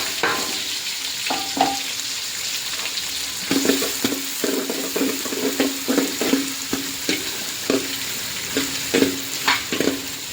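Chopped onions frying in hot oil in a pan for a home vegetarian meal, with a steady sizzle broken by repeated scraping stirs of a spatula, close and fairly loud, no talk.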